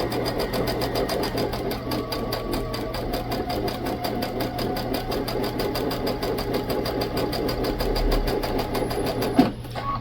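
Sewing machine stitching around a fabric circle on interfacing for a dice bag: a close, continuous rapid needle whir runs steadily for several seconds before stopping with a small clunk.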